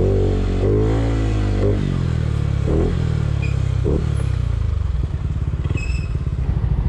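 Yamaha Aerox scooter fitted with a CJE power pipe and stock ECU revs hard on a test ride, its engine note rising and dipping through several throttle pulls before settling into a steady, close drone.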